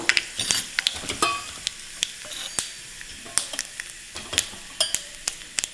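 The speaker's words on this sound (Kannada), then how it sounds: "ಎಣ್ಣೆ ಕಾದ್ಮೇಲೆ ಒಂದು ಸ್ವಲ್ಪ ಸಾಸಿವೆ ಅಂದರೆ ಒಂದು ಕಾಲು ಚಮಚದಷ್ಟು" Mustard seeds crackle and pop in hot oil during tempering for lemon chutney, giving sharp scattered bursts over a steady sizzle, close and fairly loud, with no talk.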